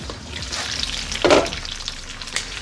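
Pancakes for breakfast sizzling in a hot pan, a continuous close crackle with a brief louder burst midway.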